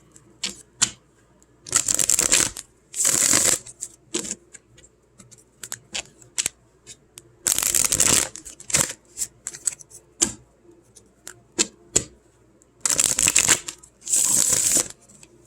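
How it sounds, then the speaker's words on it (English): A deck of cards is riffle-shuffled several times, with rapid fluttering bursts separated by quieter taps and clicks as the cards are squared. "good shuffle here."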